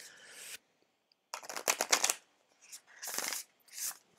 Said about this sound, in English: is to give the deck 3 shuffles